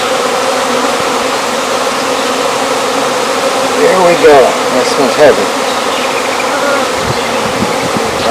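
Honeybees buzz steadily and close throughout a top bar hive inspection, a dense continuous drone with a few louder passes near the middle while a person speaks briefly.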